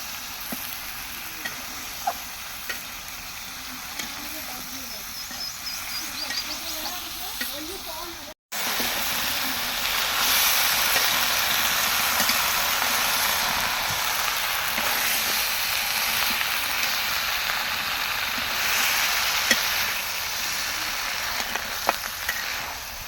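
Eggplant and potato pieces fry in a spiced masala, a steady close sizzle and hiss with scraping stir noises, briefly cut silent partway before the frying sizzle returns louder, with a voice speaking over it.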